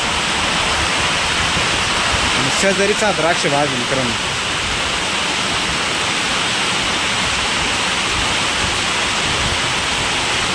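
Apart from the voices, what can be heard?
heavy rain on grape orchard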